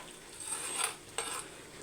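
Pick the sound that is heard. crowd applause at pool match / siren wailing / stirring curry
stirring curry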